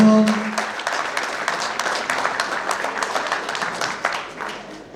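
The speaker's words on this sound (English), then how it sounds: "Round of applause, please." Audience applause fills an award ceremony honouring the St. Lucian community, a steady wash of many hands clapping that holds for several seconds and slowly thins toward the end.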